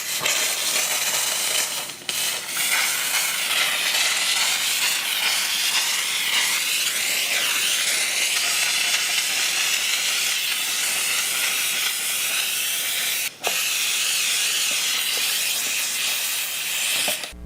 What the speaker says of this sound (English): here's another place that might be good for a steamer like this, which is like little crevices and where it's hard to clean out